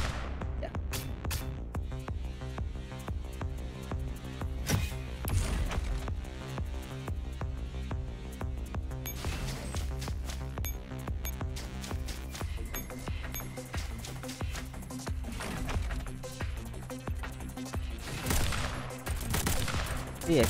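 T-Dolls fire guns at enemies in the Girls Frontline video game: dense, repeated volleys of gunshots and impact clatter, with game music underneath.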